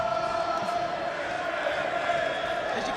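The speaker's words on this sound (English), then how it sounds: "As you can hear the crowd cheering on Fetti." A boxing crowd at York Hall roars and cheers for a fighter during a fight night, a dense, steady wash of distant voices filling the hall.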